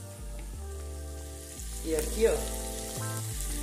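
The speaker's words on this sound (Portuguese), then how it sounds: "A calabresa tá fritando. Fritando a salsicha. E fritando a calabresa em rodela." Round slices of calabresa sausage fry in a home kitchen pan with a steady close sizzle. A brief spoken remark sits over the crackling.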